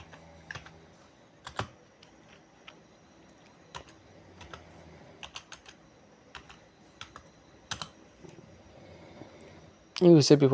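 Typing a search on a computer keyboard: scattered, close key clicks and taps in irregular bursts, with a louder clatter at the end, and someone speaking quietly beneath.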